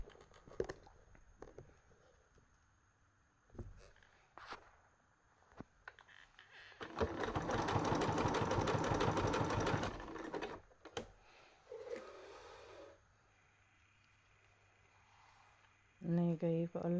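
A Janome Decor domestic sewing machine stitches in one fast, rapid-fire burst of about three seconds. Clicks and handling noises come before and after, and a voice speaks at the end.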